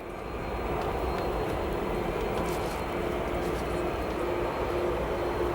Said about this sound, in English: this aircraft arriving in from Helsinki, Finland